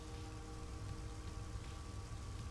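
Steady, soft rain hisses in the Mother 3 video game, an even wash of falling drops with no voices over it.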